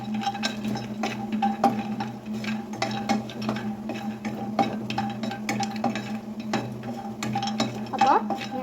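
Spoon stirring a pot of homemade Horlicks with cashew nuts in a home kitchen, a steady run of soft scraping and light metallic clinks, close by, with a low hum beneath.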